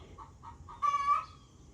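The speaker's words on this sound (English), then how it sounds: "Chicken laying an egg in there." Short bursts of hen clucking after laying an egg, a few soft clucks then a louder, drawn-out squawking cackle, close by and alone.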